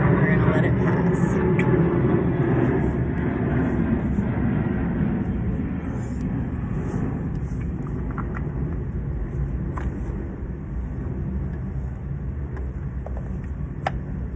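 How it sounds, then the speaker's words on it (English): An airplane passes overhead near an airport, a broad steady roar that fills the whole stretch at constant loudness and fades only slightly, with faint occasional clicks on top. "There's an airplane. I live by the airport. We're gonna let it pass."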